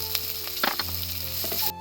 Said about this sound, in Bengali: এবার এর মধ্যে কাঁচা লঙ্কা কুচিগুলো দিয়ে দেব।